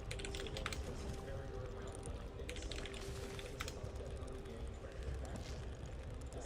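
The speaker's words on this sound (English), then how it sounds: "Also, can you hear the keyboards?" Players at a StarCraft esports tournament at DreamHack Dallas type quickly on keyboards, making a steady dense clatter of keystrokes with faint crowd murmur in the background.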